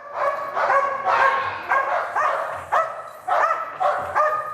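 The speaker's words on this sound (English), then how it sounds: "The decoy, the bad guy who's being the perpetrator, coming in and agitating the dog." A prison police dog barking repeatedly during bite-training agitation by a decoy, a rapid series of close, loud, sharp barks and yips in bursts.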